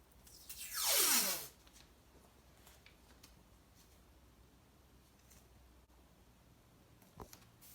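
Masking tape pulled from its roll to go around the edges of a mosaic before grouting makes one loud rasping tear near the start, then quiet, faint handling rustles and a small tap near the end.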